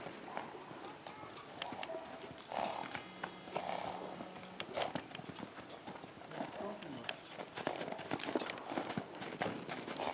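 A young horse for sale walks on hard ground with light hooves, making a regular clip-clop at moderate distance, while someone talks over it and birds call faintly.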